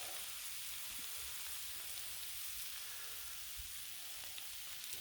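Turkey stir fry sizzles steadily on a Blackstone griddle, a continuous even hiss of frying with a few soft pops and stirring sounds, close and alone without talk.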